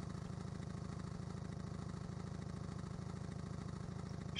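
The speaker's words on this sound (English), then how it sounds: "A bike is waiting outside of the cafe for Cybill. Its engine is running." A motorcycle engine idles steadily outside a snowy cafe in the video game Silent Hill Play Novel, a continuous close, even putter with no voices.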